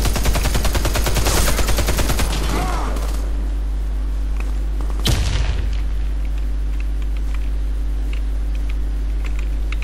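Rapid automatic gunfire from the shooter game Warface rattles loud and close in a dense burst, then a single sharp blast cuts through a steady low drone.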